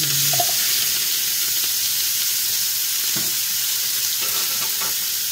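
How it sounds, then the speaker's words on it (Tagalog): Ground onion dropped into hot oil left from frying eggplant sizzles loudly and steadily, with a few soft stirring scrapes and clinks along the way and no talking. "dito sa pinagprituhan natin ng ating talong, ilagay na natin yung ating giniling na onion."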